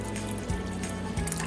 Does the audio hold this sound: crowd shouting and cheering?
no